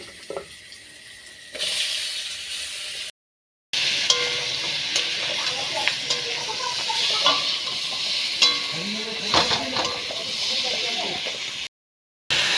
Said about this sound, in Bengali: বেগুন ভাজাগুলো করে নিন।